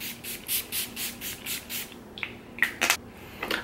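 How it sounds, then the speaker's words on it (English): SW Basics rose water spray misted onto a face at close range: a steady run of about eight short, evenly spaced pump sprays, followed by a few sharper irregular spritzes, with no talking. "And I'm just gonna spray this along my face."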